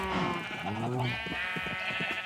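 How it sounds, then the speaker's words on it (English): Sheep in Minecraft bleat in quick succession, with several wavering cries overlapping close by and fairly loud, with no talk over them. "As you can see, I made some brown sheep."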